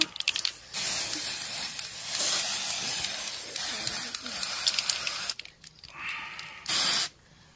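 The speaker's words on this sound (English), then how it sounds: "I sprayed you." An aerosol spray can hisses in long continuous bursts at a trunk-or-treat Halloween event in Pineville, Kentucky, close and fairly loud, pausing briefly before a final short spurt.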